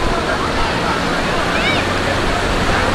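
Sea surf at Arambol Beach in Goa roars as a steady broadband wash of waves and wind, loud and close, with faint voices mixed into the rush of the water.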